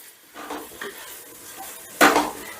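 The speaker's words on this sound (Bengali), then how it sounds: "এবারে আমি আদা রসুন পেঁয়াজ কাঁচা লঙ্কা সমস্তটা প্রায় 3-4 মিনিটের মতন ভেজে নেব" Ginger, garlic, onion and green chillies fry gently on low heat, with soft sizzling and a few stirring scrapes, then a louder clatter of utensil against pan near the end. No voices.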